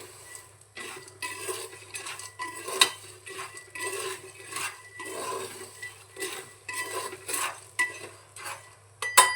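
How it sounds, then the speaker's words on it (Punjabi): Black chickpeas roast dry in a pressure cooker over a full gas flame, rattling and scraping as a spoon stirs them in quick, uneven bursts against the metal, close-up with no talking. "ਵੱਧ ਗੈਸ ਤੇ ਆਪਾਂ ਛੋਲੇ ਭੁੰਨ ਰਹੇ ਹਾਂ ਜੀ"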